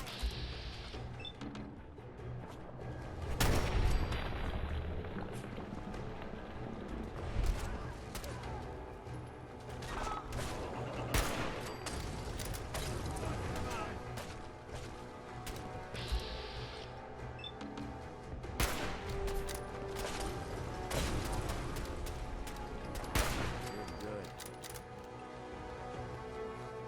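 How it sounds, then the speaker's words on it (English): Covering gunfire rattles through a Fallout 4 firefight in scattered bursts and single sharp shots against a busy, noisy battle backdrop, with voices shouting intermittently. "Give her some covering fire."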